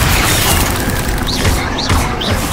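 Bombarda spell blasts in the Hogwarts Legacy video game thud as loud, close booms with crashing debris, several in quick succession over dense combat noise.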